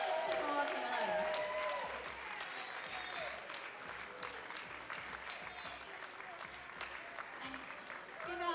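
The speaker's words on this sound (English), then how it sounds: "give our Masters ladies one last round of applause" An audience at a powerlifting nationals claps and cheers for masters women lifters, the applause loudest at first, then thinning slightly while a voice carries over it.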